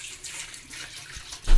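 Tap water runs steadily over guavas being washed in a sink, a continuous splashing hiss that swells louder near the end, with no voices.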